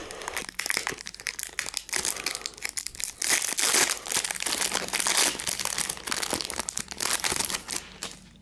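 A football trading card packet is torn open and its foil wrapper crinkled and crushed near the microphone, a busy run of sharp rustling bursts that continues throughout with no talk.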